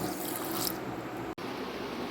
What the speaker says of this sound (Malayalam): അതിലേക്ക് ഒരു 1/2 കപ്പ് വെള്ളം ഒഴിച്ചു കൊടുക്കുന്നുണ്ട്